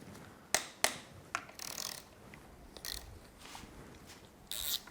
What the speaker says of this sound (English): Now we're going to loosen the 4 10mm bolts that actually pinch the axle.